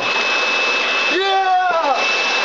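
A badly destroyed Clean Your Crud Vacuum 2000 vacuum cleaner running with a loud, steady whining motor roar, with a brief shouted voice rising over it partway through.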